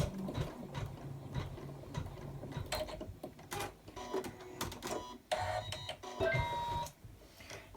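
An embroidery machine stitching out a gingerbread boy tree hanger, with rapid mechanical needle clatter and whirring motor bursts that pause and restart, close by, with no talking.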